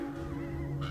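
A crow-like caw sounds in the horror game Alone in the Dark, one short, harsh call with a steady low tone beneath it and no talk.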